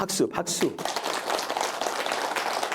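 Applause from a church revival meeting congregation, a dense, steady patter of clapping after a brief spoken phrase at the start, continuing evenly throughout.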